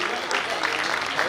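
Applause from an audience at a stage tribute event for Pawan Singh, a steady dense wash of clapping filling the short moment, with a voice faintly mixed in.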